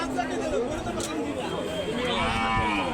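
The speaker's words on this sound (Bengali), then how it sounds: "এই যে এই গরুটা দেশি" A cow moos at a busy cattle market where dairy cows are being sold, a drawn-out low call amid constant crowd chatter and nearby voices.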